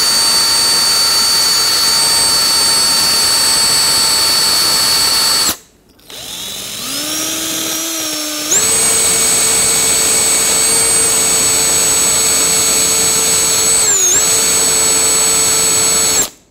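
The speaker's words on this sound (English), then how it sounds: "You can also use a wire wheel." A power drill fitted with a wire wheel, cleaning rear brake parts on a 2011-2018 Volvo S60, spins up and whines steadily, stops briefly, then revs again at a higher pitch and keeps running loud and close.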